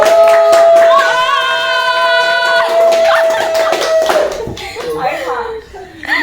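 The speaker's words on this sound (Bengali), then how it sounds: "তোমরা হাত তালি দিচ্ছে" Hands clap at a birthday party in scattered bursts, mixed with laughter, children's voices and a sustained melodic tone, close and lively, with people talking throughout.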